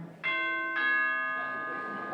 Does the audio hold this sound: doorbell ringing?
yes